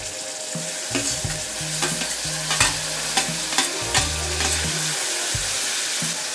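Finely chopped red tomato is stir-fried in a pan with spices for a moong dal dry curry. Loud, steady sizzling sounds alone, with repeated scraping clanks of a spatula against the pan.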